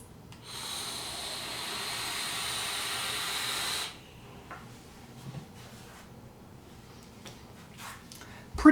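Vapor drawn through a RAGE RDA atomizer on a 0.25 ohm coil at 75 watts, a steady airy hiss for about three seconds followed by quieter exhaling and faint clicks.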